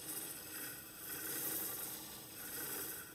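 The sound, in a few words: wood being turned on a lathe with a turning tool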